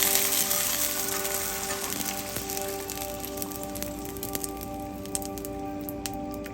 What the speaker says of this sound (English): Be very careful because this is hot oil. And you're gonna go ahead and add it to that.